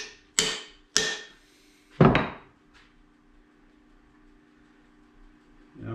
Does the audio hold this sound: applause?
no